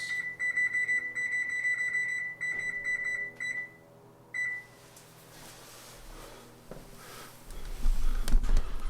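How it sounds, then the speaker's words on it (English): A kitchen timer set for 18 minutes gives a steady run of high electronic beeps that stop, resume briefly, then give way to low room noise and some rustling. "So I'm going to set my timer for 18 minutes."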